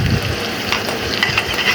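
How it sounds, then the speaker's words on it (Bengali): Onions frying in hot oil in a pan, a loud, close, steady sizzle with faint stirring underneath, lasting under two seconds. "তেলটা একটু গরম করে তাতে কিছু পেঁয়াজ, রসুন, মরিচ, হলুদ দিয়ে কষিয়ে নেব।"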